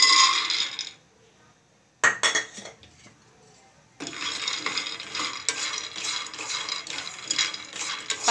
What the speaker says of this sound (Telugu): అందులో పల్లీలు వేసుకోవాలి.